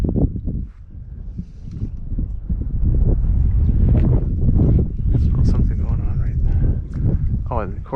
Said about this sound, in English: the wind comes up now